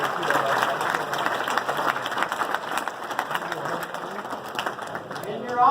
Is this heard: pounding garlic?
no